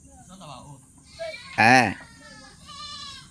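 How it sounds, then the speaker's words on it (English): A goat on a Nigerian farm with brachiaria pasture bleats once, loud and wavering for about half a second, while someone speaks nearby before and after. "Another goat is crying there."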